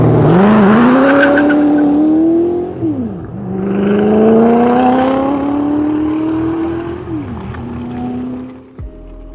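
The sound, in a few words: Ford GT replica engine, likely old Mustang engine, on high-speed run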